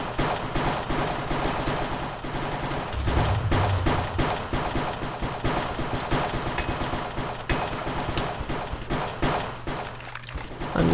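Rapid gunfire rattles through a Minecraft shooter minigame, bursts of sharp, repeated shots fired almost continuously at close range, loud and unbroken with no voices over it.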